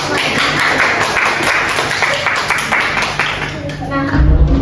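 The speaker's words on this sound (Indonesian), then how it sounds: "Tepuk tangan dong untuk semuanya" Classmates clap together in a primary school classroom during a micro-teaching lesson, a scattered round of hand claps under steady speech, ending with a low rumble.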